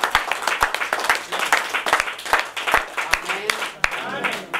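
Congregation clapping and cheering at an engagement ceremony, a steady burst of applause throughout with voices mixed in.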